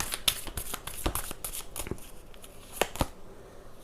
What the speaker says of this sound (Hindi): अब मैं कार्ड्स निकालती हूँ